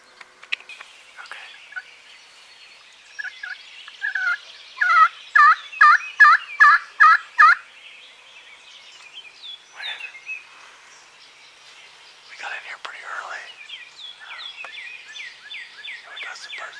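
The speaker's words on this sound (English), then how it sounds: "Gobble on the north end of us." A wild turkey gobbles in spring woods, a rapid rattling burst repeated several times in a row, fairly close and clear, with scattered other bird calls around it and no talk.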